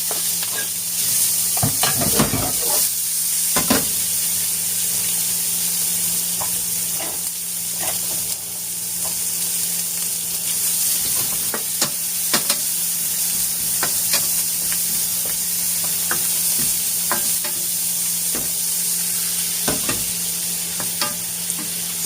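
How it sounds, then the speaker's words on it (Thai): Three-layer pork belly stir-fried with onion sizzles steadily in a hot pan, a constant frying hiss broken by repeated scrapes and clacks of a utensil stirring, close and alone without talk. "เนื้อหมู สามส่วนตรงท่อนนะคะเราจะ ผัดร่วมลงไปกับ หอมหัวใหญ่ค่ะ"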